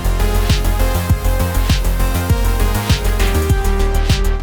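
A bass line with its resonance macro capped at 50% on an Akai MPC3 plays over a steady beat, its repeating notes punchy and loud without any talk.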